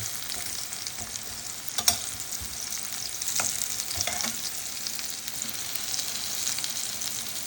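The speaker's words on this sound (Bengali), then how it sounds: "এদিকে আপনার চাল কুমড়া ভেজে নিচ্ছি" Ash gourd frying in a pan, a close, steady hiss of oil with a few sharp crackles and spatula scrapes scattered throughout, no voices.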